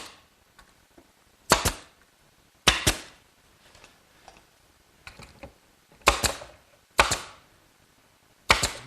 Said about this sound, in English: But I can get a nail gun on the outside, so I'll just put a couple tacks on each side.